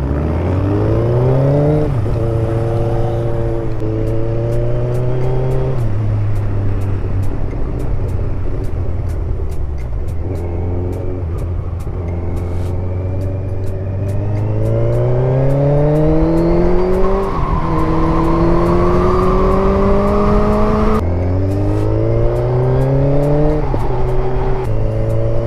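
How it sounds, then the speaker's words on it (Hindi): A car engine drones loudly and continuously off-road, climbing and dropping through the gears as the car accelerates and eases off, recorded close from inside the vehicle with no talking. "अंकुर भैया सही मजे ले रहे हो जिंदगी के, ऑफ रोडिंग का ले रहे हैं मजा"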